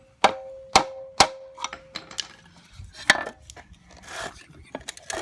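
Sharp taps on the plastic part of a pool sand filter multiport valve, three ringing knocks in quick succession followed by scattered lighter clicks and handling noises, close up and fairly quiet.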